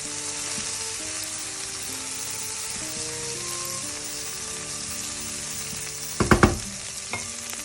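Saffron lemon risotto bubbles and sizzles steadily in a pan as it is stirred almost constantly, a close, even hiss with a brief clatter of a utensil against the pan near the end.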